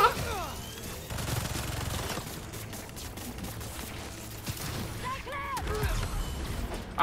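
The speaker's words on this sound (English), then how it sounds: "Opening fire!" Bursts of rapid gunfire rattle in the Marvel's Spider-Man 2 video game amid clanking mechanical noises and game voices, with the shooting moderately loud and continuous over several seconds.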